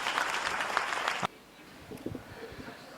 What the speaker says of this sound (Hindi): एक बार जोरदार ताली बजा करके इनका अभिनंदन करें